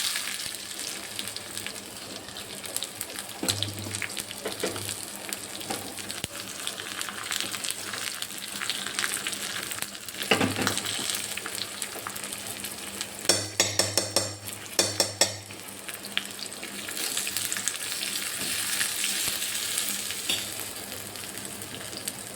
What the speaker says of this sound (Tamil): பூண்டும் நல்லா ஃப்ரை ஆகிடுச்சு.